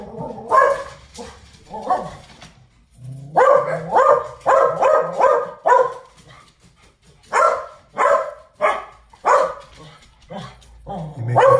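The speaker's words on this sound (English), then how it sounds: "You make a thumping sound, and the dogs are sure they're about to be attacked." Several dogs bark in repeated bursts, loud and close, some with sharp yips and a brief whimper, in irregular volleys with short pauses between them.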